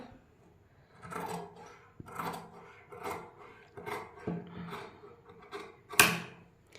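Scissors cut through fabric for a sleeve in a series of separate snips and rustling strokes, close and moderately quiet, with a sharper crisp cut near the end.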